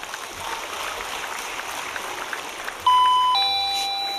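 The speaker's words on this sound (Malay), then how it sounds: "Tutuplah loceng tu." An electronic doorbell-style chime rings out clearly over a murmuring indoor crowd at a speech venue, two bright ding-dong tones sounding near the end and fading.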